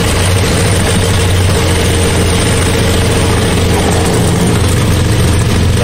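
A compressor engine enclosed in a soundproof box idles continuously with a steady low-pitched hum, muffled and even, with no voices.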